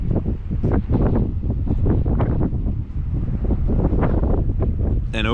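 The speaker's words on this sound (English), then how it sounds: "It's been windy all day." Wind blows hard across open farmland in Lancaster County on an overcast day, a loud continuous buffeting rumble on the microphone with gusty surges throughout.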